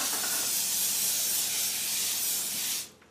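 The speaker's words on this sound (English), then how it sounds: "we're gonna spray it with Pam here too, so it doesn't stick" Pam cooking spray hissing out of an aerosol can onto a grill grate, one loud, steady close spray lasting nearly three seconds before cutting off.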